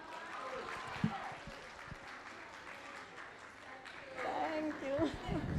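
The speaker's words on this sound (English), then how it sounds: "A round of applause" An audience applauds at a conference event, producing a steady wash of clapping that swells toward the end, mixed with faint crowd murmur and a few indistinct voices.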